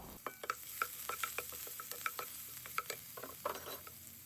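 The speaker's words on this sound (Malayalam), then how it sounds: "ചൂടായ എണ്ണയിലോട്ട് ഇഞ്ചിയും വെളുത്തുള്ളിയും ചതച്ചത് ഒന്നിട്ടൊന്ന് മൂപ്പിച്ചെടുക്കാം" Crushed ginger and garlic frying in hot oil: a quiet, steady sizzle broken by frequent spoon scrapes and taps as it is stirred, with no talking.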